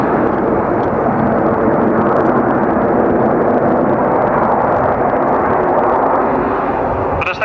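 Red Arrows jet aircraft looping overhead at an air display, a loud, steady broadband roar sustained throughout without any break.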